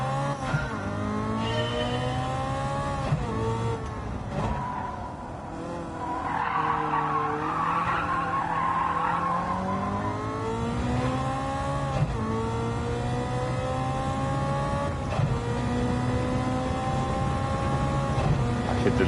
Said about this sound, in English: Hit the limiter again just before crossing the start-finish line.